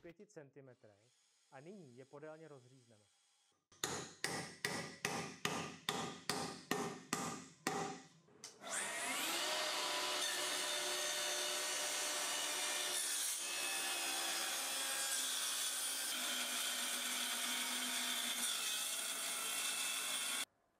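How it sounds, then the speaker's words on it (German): A Festool HKC 55 cordless circular saw revs in a rapid series of short bursts, then bites into wood with nails and screws in it, with a sustained, loud, grinding whine running over ten seconds. "Zum Testen verwenden wir eine Akku-Handkreissäge von Festool, eine HKC 55 Säge mit ausreichender Leistung."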